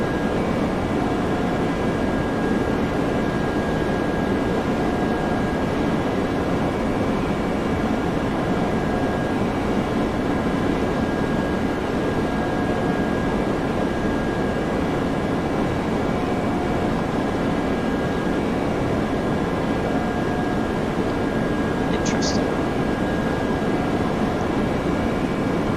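Steady, loud drone of Lufthansa Airbus A320 engines in flight in Flight Simulator X, a constant broadband roar with faint tonal hums running unbroken throughout, no voices.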